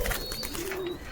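A loft pigeon coos softly at close range, a low hum blending with faint background noise and a thin tone.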